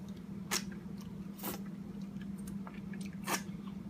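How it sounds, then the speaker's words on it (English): Bites into a messy homemade copy of an In-N-Out Animal Style secret-menu burger with sauce and onion, giving a few separate crunchy chewing bursts over a quiet background, with no talking. "I'm going to grab a bite of one of those."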